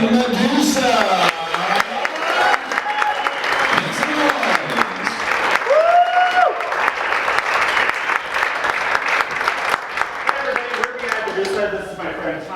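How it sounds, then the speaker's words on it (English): Audience applause after an act at an improv comedy festival show, a loud sustained wash of clapping from a crowd with whoops and voices mixed in, continuing steadily throughout. "let's keep the applause going."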